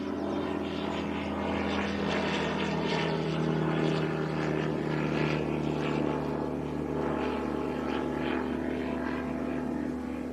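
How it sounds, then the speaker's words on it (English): A light propeller aircraft taxiing at Leeds Bradford Airport gives off a steady droning engine hum with a buzzing prop note, continuous and moderately close, with no speech over it. "Light aircraft just sneaking out on us here."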